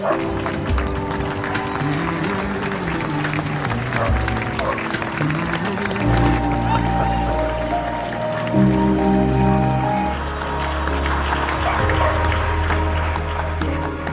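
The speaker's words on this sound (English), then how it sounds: "Everyone claps." Everyone in a studio claps along at the close of a podcast episode, a steady patter of hands running under loud music with sustained tones throughout.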